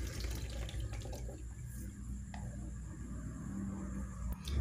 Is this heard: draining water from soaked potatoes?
yes